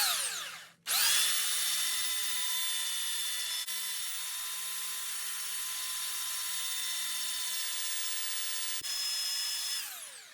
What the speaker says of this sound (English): Now, while I'm sanding, I want to just get rid of this lip.